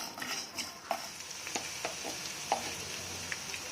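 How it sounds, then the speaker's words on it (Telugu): Onions frying in a pan for a fish pulusu, a soft steady sizzle under scattered light stirring clicks and scrapes, close and fairly quiet with no voices. "ఆనియన్ ఫ్రై అయిపోతుంది కదా"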